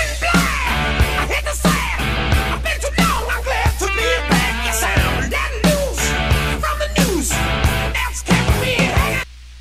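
Opening verse of a song, with loud, driving rock guitar, drums and a shouted lead vocal playing continuously before cutting off abruptly.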